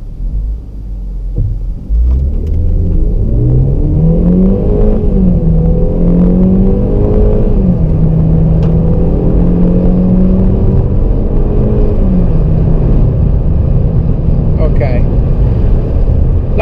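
A Ford Focus EcoBoost on a road in Fuerteventura makes a launch-control style start, its engine revving, then rising in pitch through a long, loud pull that stays close and even.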